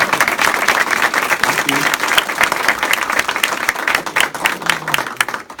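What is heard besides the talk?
round of applause for founding members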